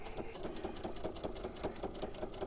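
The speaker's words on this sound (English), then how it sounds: "So I'm going to sew." A sewing machine stitches quilt binding in a quick, steady run of close, even needle strokes, close up and continuous with no voices.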